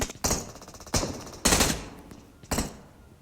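Gunfire in PUBG comes in four sharp, loud bursts of rapid shots spaced about half a second to a second apart, each fading quickly, with no talking.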